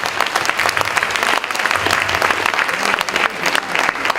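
An audience at an academic panel discussion breaks into sustained applause, a dense steady wash of clapping from many hands lasting the whole stretch.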